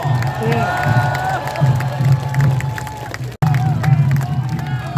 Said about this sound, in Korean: 시민 여러분 다시 한번 뜨거운 박수로 만나주시기 바랍니다